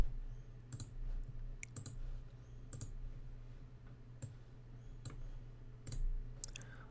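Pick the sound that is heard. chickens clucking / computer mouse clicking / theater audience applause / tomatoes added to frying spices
computer mouse clicking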